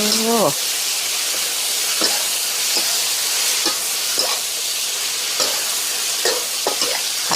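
Dried shrimp and wood ear mushrooms are stir-fried in a pan with a steady, loud sizzling hiss. A spatula scrapes and clinks against the pan at irregular moments throughout.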